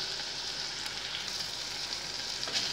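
Sliced peppers and onions fry together in a pan on the stove, making a steady, even hiss of sizzling oil with no talking.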